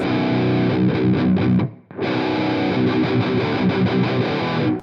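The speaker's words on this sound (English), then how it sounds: "just hear how different it is to have a distortion pedal" Loud electric guitar through a distortion pedal with modern metal tone from Amplitube 4, thick buzzing chords ringing out, a brief drop to near silence, then more gritty strummed chords.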